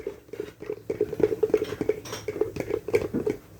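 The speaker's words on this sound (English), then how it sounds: "So I'm going to stir up my mayonnaise here." A spoon clinks and scrapes around a bowl while Duke's mayonnaise is stirred for a keto jicama mock potato salad; the taps come quick and irregular, close up, with no talking.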